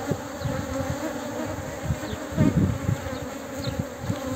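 Honey bees buzz at an open beehive as it is smoked, a dense close drone with scattered louder passes of single bees.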